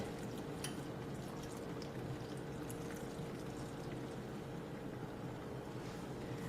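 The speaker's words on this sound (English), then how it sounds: "Okay, so we've poured in our gravy." Vegan gravy made with vegetable broth, spices and flour pours steadily into a pan, a continuous soft liquid wash with faint drips, fairly quiet and alone with no talking.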